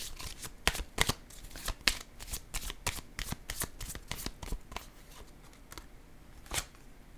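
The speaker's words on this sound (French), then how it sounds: "Ici, je vais piger une carte rose." A deck of tarot-style cards shuffled close up in a rapid series of crisp riffling flicks, then slowing to a few separate snaps as a pink card is drawn.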